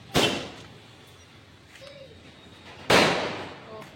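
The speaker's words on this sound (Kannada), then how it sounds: "ಪಟಾಕಿ" Firecrackers burst during a Guru Nanak Jayanti celebration near a gurudwara, two sharp, loud cracks about three seconds apart, each with a brief rattling decay, over quiet background murmur.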